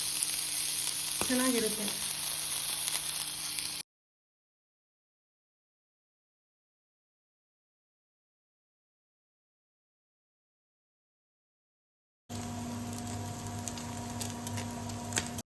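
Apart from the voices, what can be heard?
paneer frying in butter on a tawa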